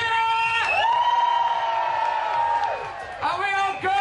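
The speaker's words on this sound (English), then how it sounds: "Bristol Pride, give me a cheer!" A Bristol Pride crowd roars and whoops in a sustained loud cheer outdoors, falling away briefly before a second burst of shouting swells back up.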